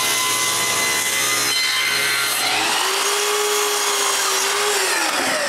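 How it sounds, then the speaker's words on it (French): A saw cuts the center groove in a wooden blade-guide holder, guided by a cutting sled, for a homemade wooden bandsaw; a steady, loud rasping cut runs throughout, with a rising whine in the second half. "J'utilise le chariot de coupe pour faire la rainure du centre."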